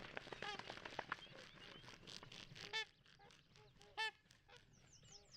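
Trumpeter swan calls from a played recording: a few loud, nasal, goose-like honks that ring out clearly against a quiet background, following an earlier stretch of softer, busier sound.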